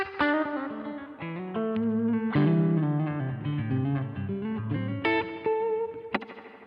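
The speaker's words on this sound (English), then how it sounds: "I just think it's a particularly good Spring Reverb emulation" Electric guitar playing chords and single notes through a '63-style spring reverb emulation, each strum trailing a splashy, ringing tail, played alone with no voices.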